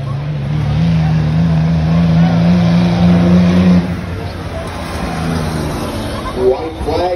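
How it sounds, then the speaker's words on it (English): School buses roar through a heat race on a racetrack, their engines loud and droning. The pitch rises steadily, then the sound fades into broader track noise while a race announcer talks over it. "The first of four heat races for the school buses."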